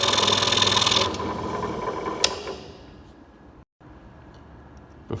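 A scroll saw cutting wood gives a loud, close buzzing rasp for about a second, then winds down into near quiet with a faint click near the end.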